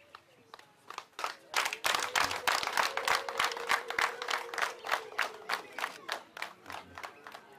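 A crowd claps in rhythmic unison, loud sharp beats repeating steadily at a quick even pace, with voices murmuring underneath.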